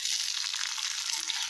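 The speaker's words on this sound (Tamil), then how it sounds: "பச்சை மிளகாவும் சேர்த்துட்டு நல்லா கொஞ்ச நேரம் ஃப்ரை பண்ணுங்க." Green chillies frying in hot oil with peanuts and curry leaves, a steady close hiss of sizzling that holds evenly throughout with no talk.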